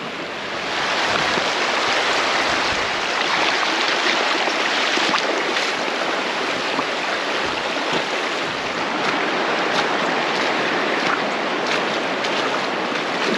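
Rushing river rapids roar steadily and close by in a rainy, snowy camping spot where a dog wades across, a broad, constant wash of water with no voices.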